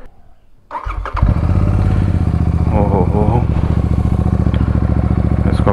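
A Royal Enfield Super Meteor 650 motorcycle fires up after a brief crank, then settles into a loud, steady, close idle. A short spoken exclamation comes just as it starts.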